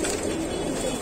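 Pigeons for sale, including Allahabadi birds, coo in a soft, steady warble close by, unbroken across the short stretch and without talk.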